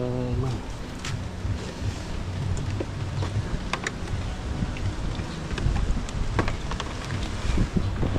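Strong wind buffets the microphone with steady rushing noise and gusty surges, mixed with scattered crackles and taps from rain and a tarp, throughout, during a flood.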